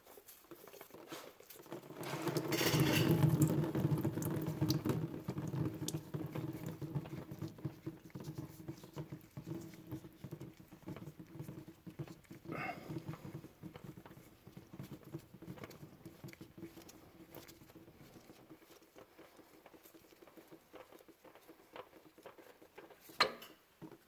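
Oil drains out of a 2008 Ford Taurus during an oil change as a steady pattering trickle, strongest early on and then settling into a softer continuous drip, with no talking.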